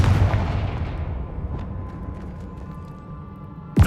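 A Confringo explosive spell goes off in the Hogwarts Legacy video game: a loud, booming blast whose rumble slowly decays over several seconds, ending with a sharp new impact.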